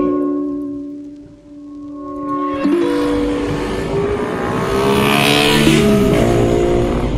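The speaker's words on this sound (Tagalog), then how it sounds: "maingay yung paligid kasi puro sasakyan lang dito eh" Noisy roadside surroundings full of cars, a low rumble of traffic building into loud engines revving and passing close by, one after another.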